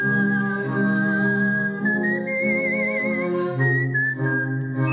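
A professional stage whistler whistles a sustained, wavering melody that steps between pitches, loud and close, with no talking over it.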